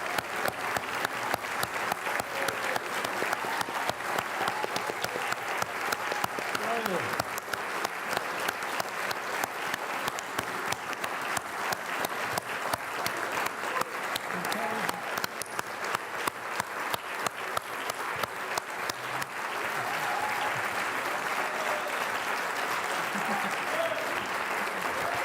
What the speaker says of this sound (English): That's some applause, fair play.